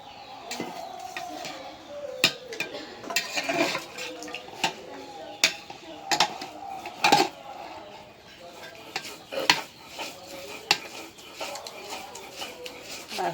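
Taro leaves are ground by hand on a flat grinding stone, producing irregular scraping strokes and sharp knocks of stone on stone, close by with faint background voices.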